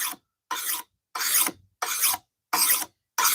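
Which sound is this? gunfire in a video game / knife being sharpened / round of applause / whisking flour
knife being sharpened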